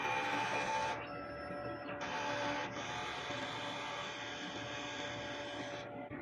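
An inkjet printer runs its head cleaning cycle nearby, a continuous mechanical whir and hum that steps abruptly between motor tones as the carriage and pump shift, with no voices.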